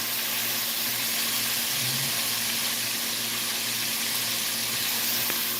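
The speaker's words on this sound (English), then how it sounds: "So the chicken is frying." Steady hissing sizzle of chicken frying in hot oil, continuous and close, with no talking.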